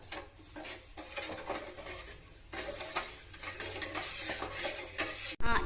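A spoon stirs sugar and water melting into syrup in a pan for sago halva, giving close, repeated scraping and clinking strokes against the metal with a soft bubbling underneath, and no talking.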